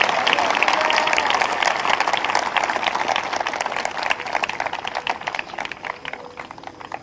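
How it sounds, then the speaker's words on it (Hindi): Applause from a church congregation at a prophecy and prayer service, a dense steady patter of many hands clapping that holds for several seconds and slowly thins toward the end. "एक जोरदार ताली बजाकर धन्यवाद दें परमेश्वर को।"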